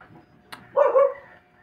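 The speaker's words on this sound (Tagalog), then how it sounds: "May aso." A single short dog bark, fairly close, rises out of a quiet background after a brief click.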